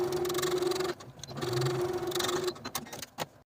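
Sewing machine stitching a fabric tab with a quarter-inch seam, a quiet, close, rapid whirring in two bursts split by a brief pause, followed by small handling clicks and then silence.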